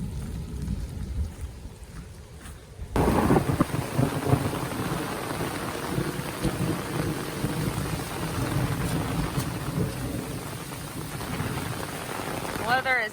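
Heavy rain pours steadily onto a surface along the Florida Trail in the morning, a dense continuous hiss with low rumbling thunder mixed in, starting abruptly after a quieter opening and staying loud throughout.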